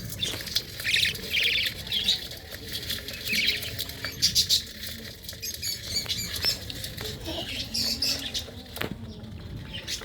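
Young birds squawk and chirp in shrill, scattered bursts, mixed with rustling and fluttering wing sounds nearby.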